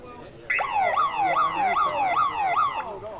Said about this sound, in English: the siren for the end of the first quarter